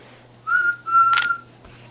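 A whistle blown during a game of the board game Whistle Stop: two short, clear, steady tones in quick succession, close and fairly loud against a quiet room.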